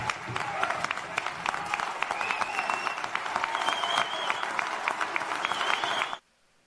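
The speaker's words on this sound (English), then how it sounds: "That's a lot of white people standing and clapping." Large audience standing and clapping in dense, sustained applause with some cheering, loud and continuous before cutting off abruptly.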